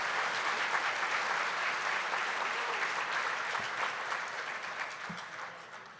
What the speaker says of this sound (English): Let's applaud our premier sponsors.